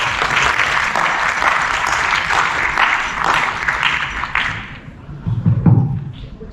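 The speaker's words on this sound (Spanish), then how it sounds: "Les pido un gran aplauso, por favor." An audience gives a speaker warm applause at an architecture culture lecture series, with steady clapping that fades out near the end, followed by a few thumps and handling noises.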